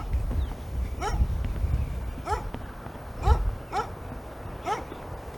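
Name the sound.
dogs barking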